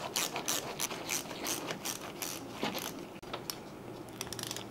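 A ratchet fitted with a universal socket and a long extension clicks in quick repeated bursts while working deep in the engine bay of a VW Mk5 GTI, close and fairly quiet with no talking.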